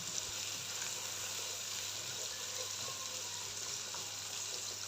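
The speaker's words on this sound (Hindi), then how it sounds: "तो सब्जियों को यहाँ पे फ्राई होते हुए 2-3 मिनट गुजर चुके हैं।" Mixed vegetables for a bhujia frying in a pan, giving a steady, close, even sizzle with a broad hiss and faint stirring, and no voices.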